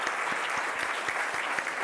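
Steady applause from an awards-gala audience honoring Rick Zbur of Equality California, a dense wash of many hands clapping with a few sharper claps standing out, continuous and fairly close with no talk over it.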